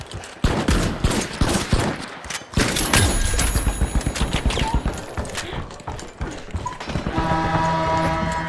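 Shotgun gunfire in the ARC Raiders video game: loud, rapid blasts crowd together in a dense, chaotic exchange, with more shots following over continuous background game noise.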